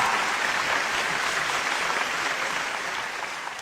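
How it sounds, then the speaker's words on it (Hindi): Audience applause at a live stage event with Dr Kumar Vishwas in Dubai, a dense, steady wash of many hands clapping at full strength throughout, easing off only slightly at the end with no talk over it. "जोरदार तालियां आप बजाइएगा"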